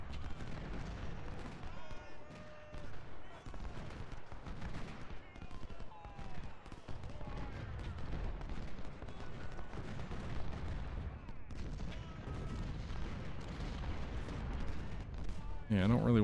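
Artillery fire in a Civil War battle from the strategy game Ultimate General: Civil War, with dense, continuous rumbling booms and crackling volleys layered throughout, loud and sustained, while someone talks over the battle noise.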